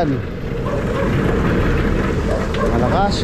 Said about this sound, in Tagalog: malakas po yung ulan dito.